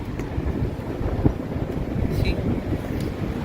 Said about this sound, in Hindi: क्या हवा चल रही है यार, ये देख क्या हवा चल रही है